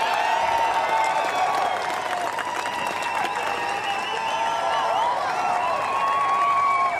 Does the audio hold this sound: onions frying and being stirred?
no